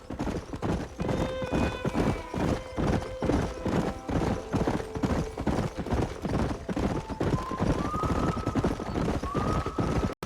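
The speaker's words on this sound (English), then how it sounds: "There's the horses!" Steady clip-clop of several galloping horse hooves in the video game Red Dead Redemption, a continuous rapid rhythm with music and faint game effects layered over it.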